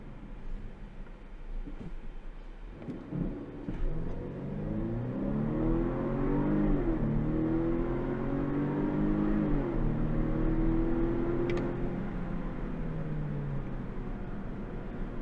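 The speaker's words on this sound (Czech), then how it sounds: "Při tomhle zrychlení už ta převodovka není až tak jemná, jako při té běžné jízdě" A 2021 Volvo V90 Cross Country B5 accelerating hard, its engine note rising steadily with audible gear changes breaking the climb, heard from inside the car over a constant low road rumble.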